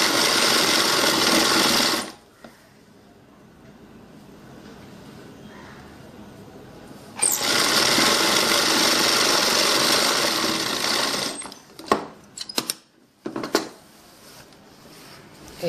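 A sewing machine stitches a salwar kameez in two steady, close runs of several seconds separated by a quiet pause, then ends with a few short bursts.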